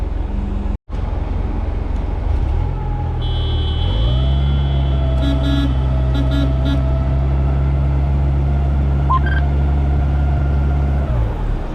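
An Amphicar amphibious car shifts into gear and drives out of a lake, its engine note rising into a loud, sustained hum with a faint tonal whine and brief beeps over it.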